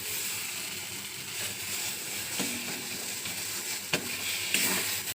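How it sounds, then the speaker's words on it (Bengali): Yardlong bean paste frying in a pan, a steady close sizzle running throughout with a few faint scraping clicks from stirring. "একটু ভাজা ভাজা করে নিতে হবে"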